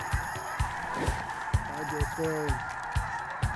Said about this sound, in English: Goose are up.